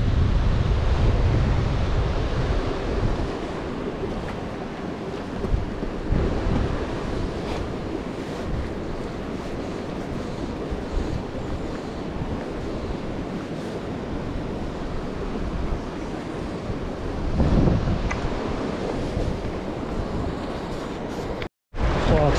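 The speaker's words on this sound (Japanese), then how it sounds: "ちょっと風が出てきましたな" Gusty wind blows steadily across a mountain stream on a tributary of the Takahara River, a broad rushing roar with buffeting on the microphone that swells and fades, loud and constant throughout.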